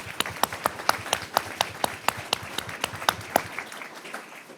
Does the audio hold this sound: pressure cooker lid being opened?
no